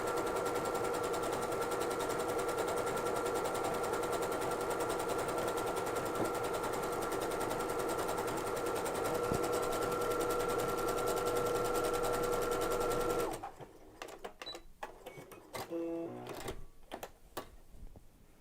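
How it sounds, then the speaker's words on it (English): Sewing machine running an overcast stitch along the edge of thick pre-quilted fabric, a steady, loud, continuous mechanical whir for about thirteen seconds that stops abruptly, followed by faint handling clicks. "overcast stitch that's specifically for thicker fabrics"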